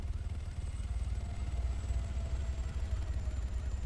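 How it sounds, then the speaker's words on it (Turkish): Police helicopter in Arma 3 flying overhead, a steady loud rotor chop and turbine whine running throughout, close and alone. "Ne helikopteri bu? Polismiş lan bu."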